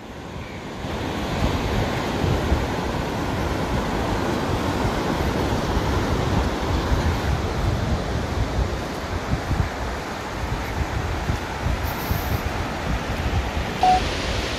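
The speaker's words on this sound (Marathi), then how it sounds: "आणि या लाटा थोड्याशा आक्रमक वाटतात" Sea waves crash and wash steadily on Bhandarpule beach in Ratnagiri, a loud continuous roar of rough surf with wind buffeting the microphone and no talk.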